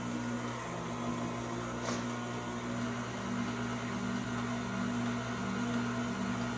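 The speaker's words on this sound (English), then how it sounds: "We're going to be mixing this on low at first, otherwise you're going to have a huge dust cloud" A stand mixer runs steadily on low through dry cookie dough ingredients with baking soda, a constant motor hum with faint scraping and no voices.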